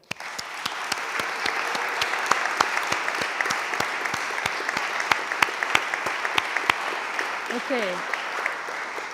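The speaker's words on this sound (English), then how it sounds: "So here is a round of applause to you" Applause at a commencement ceremony for an award recipient, with many hands clapping in a steady wash and one nearby clapper landing sharp, rhythmic claps on top; a voice briefly speaks near the end.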